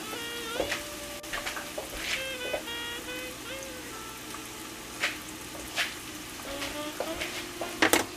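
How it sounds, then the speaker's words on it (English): Chopped onion fries in a fresh tomato sauce as a spoon stirs it, a low crackling sizzle with scattered scrapes and clinks of the utensil against the pan, fairly quiet and close. "So I've added one big chopped onion into this mixture as well. And I'm stirring it up"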